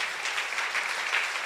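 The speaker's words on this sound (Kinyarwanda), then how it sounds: "Acclamons le Seigneur. reka dukomere amashyi Imana." A church congregation claps together during a sermon, a steady wash of moderately loud applause that fills the whole brief moment without letting up.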